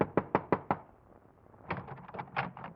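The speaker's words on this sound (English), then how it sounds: "Your hand trembles as you knock on the door." Four sharp knocks on an apartment door ring out in a quick, even series, a radio drama sound effect from 1947; after a pause, overlapping voices begin talking.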